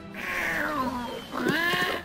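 A Palico cat from the video game Monster Hunter 4 Ultimate gives two drawn-out, wavering meows in quick succession, clear and close with no talking.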